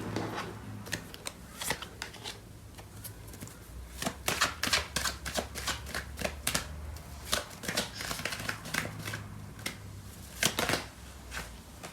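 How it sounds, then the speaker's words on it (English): Tarot cards shuffled by hand during a reading, a steady stream of soft riffling flicks and slaps up close, busy and irregular throughout with a low background hum. "So I'm going to clarify these cards."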